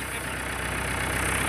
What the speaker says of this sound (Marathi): आम्ही ठरलोय आज सक्सेसफुल आमच्या शेटने ट्रॅक्टर काढलाय